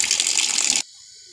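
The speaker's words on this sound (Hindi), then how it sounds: "अब हम इसके अंदर डाल देंगे पानी।" Water is poured from above into a pot of washed moringa pods, making a loud, close, splashing hiss. It stops abruptly about two-thirds of the way in and is followed by near silence, with no speech.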